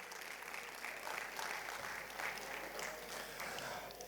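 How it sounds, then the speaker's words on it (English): Steady applause from a crowd fills the room, a dense patter of clapping that holds evenly throughout. "Please welcome her with a round of applause."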